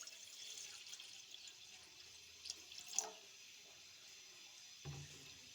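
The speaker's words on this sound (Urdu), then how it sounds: "اب ہم سوس پین میں پانی ڈالیں گے" Water is poured into a saucepan while making Kashmiri pink tea, a faint, steady stream splashing into the pan with a few small clinks, then a soft low bump near the end.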